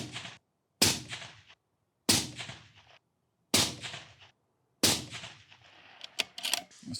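Five loud, sharp rifle shots from a Cadex Defence Kraken multi-caliber long-range rifle ring out at steady intervals of roughly a second and a half, each followed by a brief decaying echo, with no talking.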